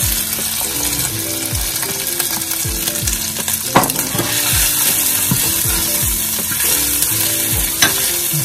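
Carrots sizzling in a hot frying pan with white onion as a spoon scrapes and stirs them, giving repeated close scraping strokes over a constant loud frying hiss.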